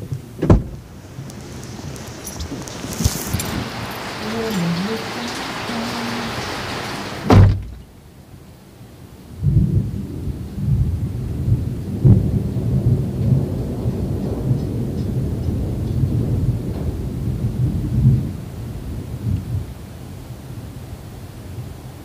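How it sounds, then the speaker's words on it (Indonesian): Heavy rain pours steadily alongside a thunderclap, with a loud rumbling burst partway through and continuous broadband downpour noise afterward, close and enveloping, no talking. "Wow, masih hujan gede juga, guys."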